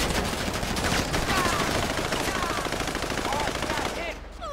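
Rapid, sustained automatic gunfire from weapons grabbed off enemies in the GTA 5 video game, dense overlapping bursts at steady loudness that ease off near the end, with faint voices underneath.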